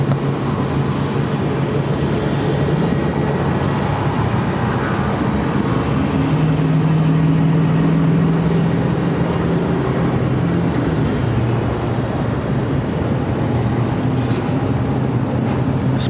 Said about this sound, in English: A319 is headed to Santa Rosa. It's an old America West A319.